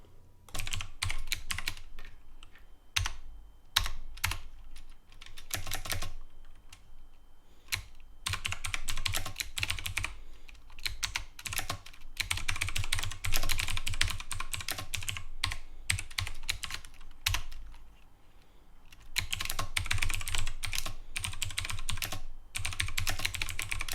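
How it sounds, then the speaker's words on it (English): Keys of a HAVIT HV-KB366L mechanical keyboard clatter in bursts of rapid clicking, pausing briefly between runs of typing, close and crisp. "let's listen to what the keys sound like when you use the keyboard"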